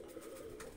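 A pigeon gives a short, low coo close by, brief and alone against quiet background.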